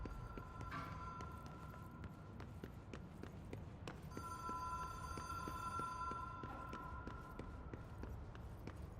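A telephone rings in the video game Control: a bright electronic ringing tone sounds briefly near the start, then again steadily for several seconds over a busy in-game background with small clicks and thuds.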